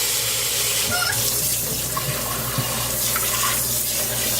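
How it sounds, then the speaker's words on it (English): Tap water runs steadily into an oblong spaghetti pan holding a corned beef brisket, a continuous close splashing gush with no talk. "Add some water."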